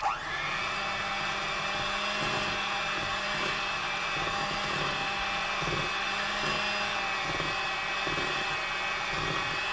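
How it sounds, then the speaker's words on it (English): An electric hand mixer whirs steadily and loudly at close range as it blends carrot cake batter in a home kitchen, a continuous motor drone holding for the whole stretch with no talk. "let's see if I can blend this up with my mixer without it going all over the kitchen"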